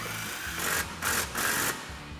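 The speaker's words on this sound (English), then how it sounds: "Now you can take an 18mm swivel socket and tighten this down." Three short bursts of whirring from an impact gun on an 18mm swivel socket tighten a bolt at a Jeep Gladiator JT shock mount during a suspension lift install.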